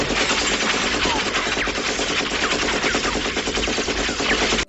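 Light machine gun suppressive fire in the shooter game The Division 2, a dense, unbroken stream of rapid automatic gunshots at steady loudness for nearly five seconds, ending abruptly.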